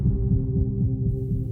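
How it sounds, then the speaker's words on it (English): Steady thumping heartbeat, a low throbbing double pulse repeating evenly and close, loud and alone with a faint hum beneath, used as a sound effect in a dramatic desert scene. "The stranger's heartbeat thundered against my back,"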